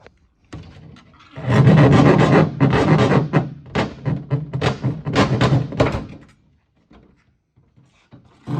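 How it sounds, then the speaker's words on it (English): A hacksaw cuts through the aluminum skin of a Cessna 182 fuselage panel near the tail, heard as a run of close, loud, rasping strokes in rapid rhythm, trailing off into a few faint scrapes. "Take a little hacksaw, finish up the job here."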